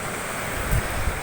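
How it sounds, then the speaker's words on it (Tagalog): Ocean surf on a beach, a continuous close roar of waves with wind buffeting the microphone and a couple of heavier low thumps, brief and fairly loud. "Ito naman po ang karagatan."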